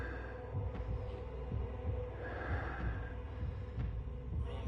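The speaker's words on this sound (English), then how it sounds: "Our heartbeat's drowning everything else out." A heartbeat in the video game Vampyr thuds in a steady, loud rhythm of low double pulses, backed by a constant deep hum with no other sounds competing.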